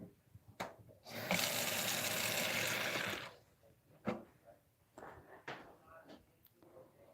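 Tap water runs into a pot for noodle soup in a steady gush lasting about two seconds, followed by cupboard and door knocks and a few scattered clatters, with speech around it.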